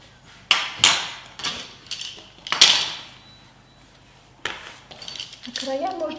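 A fork pressing and crimping the sealed edges of thin chebureki dough on a work surface, giving a few sharp, close taps and clicks spaced irregularly, then quieter handling noise.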